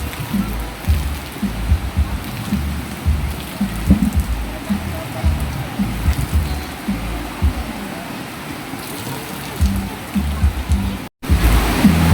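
Steady heavy rain pours down in a dense, continuous wash of noise, with a brief dropout near the end.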